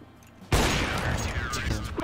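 A shooting video game bursts into loud, close gunfire after a short quiet lead-in, then a sustained clatter of shots and impacts rings on until the end, with a player's voice faintly underneath.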